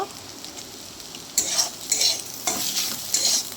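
Turmeric, chili and coriander powder fry in oil for dal as a spoon scrapes and stirs the pan in short bursts, each stroke bringing a louder sizzle over a low background hiss, with no speech.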